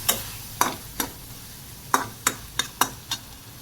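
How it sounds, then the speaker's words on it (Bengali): Spoon scrapes against a pan while bottle gourd curry is stirred, about nine sharp, separate strokes in an uneven rhythm over a faint low background, close and fairly quiet. "এই হচ্ছে আমার লাউয়ের তরকারি।"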